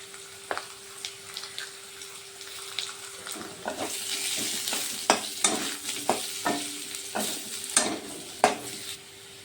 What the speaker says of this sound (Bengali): আলু ভাজা হয়ে গেছে, আমি এখন তুলে নিচ্ছি আলুগুলো।